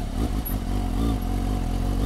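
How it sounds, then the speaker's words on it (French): A motorcycle engine idles low and steady, then rises slightly as throttle is added to pull away slowly, with some mechanical clatter close by. "l'embrayage avec un peu de gaz, hein, pour relancer la moto."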